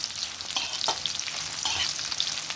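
Dry red chilies fry in hot oil for a chutney, giving a continuous close crackling sizzle with a few brief louder pops and no voices.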